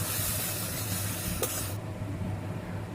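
Spice-wash water hits frying spice paste in a kadai while cooking okra and prawns, giving a loud steady hiss and sizzle that cuts off sharply partway through, leaving a quieter bubbling sizzle.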